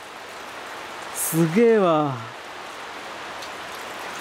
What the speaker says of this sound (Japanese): めちゃくちゃ雨降ってる。